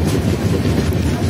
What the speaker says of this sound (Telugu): ప్లాట్ఫారం 2 మీదకి అయితే వెళ్తుంది మన ట్రైన్.